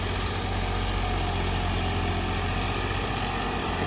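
A John Deere 5210 tractor engine runs with a constant low, throbbing drone that holds steady and fairly close throughout, without any voices.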